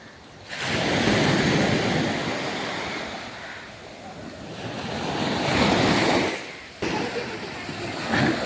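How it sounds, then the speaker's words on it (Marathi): Sea waves roll onto the shore beside Chaitya Bhoomi at Dadar, Mumbai. Two loud, close surges of surf swell and fade, with heavy wind buffeting the microphone. "लाटावर लाटा लाटावर लाटा लाटावर लाटा असे येत आहे बघा"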